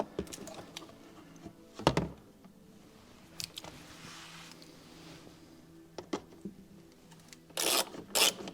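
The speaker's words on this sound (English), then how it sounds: "I'm just putting these 8mm bolts in place." On a BMW X5 under rebuild, 8mm bolts are set in place, giving scattered metallic clicks, rubs and short scraping bursts, with a louder clatter near the end, all close up and without speech.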